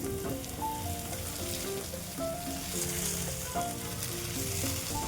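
Fried fish pieces sizzling in masala in a pan, a close, steady crackle and hiss, with soft ticks and a few clinks from a utensil, no talk.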